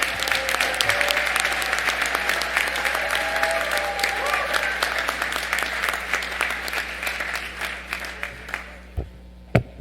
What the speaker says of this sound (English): all of you need to give Mark Martin a good round of applause for all his years of service